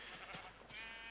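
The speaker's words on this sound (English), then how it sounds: "I might have to kill some of these sheep though, because they're going to trample all over the crops once they're down." A sheep bleats in a farming video game, a single wavering, drawn-out call heard moderately close over a faint steady background, with no speech.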